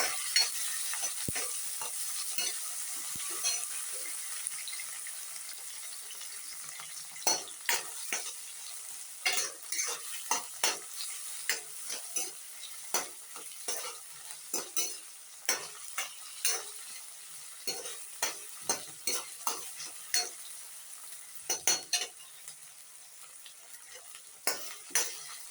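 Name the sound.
sautéing ginger garlic paste and green chilies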